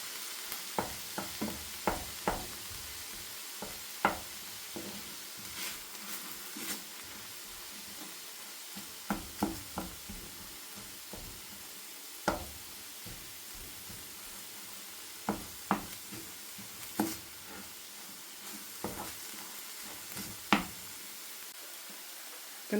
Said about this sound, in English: Going to give it a stir, break it up a bit more. We want to cook it until the mince is brown